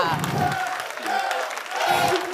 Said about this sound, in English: A round of applause for Teiya.